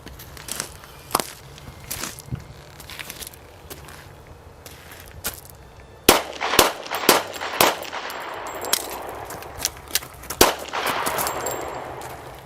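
Gunfire from a firearm follows a reload in a shooting demonstration. Sharp cracks come irregularly, some isolated and others in quick bursts, against a quiet background at moderate distance.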